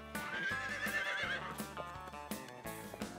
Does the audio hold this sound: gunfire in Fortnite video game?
no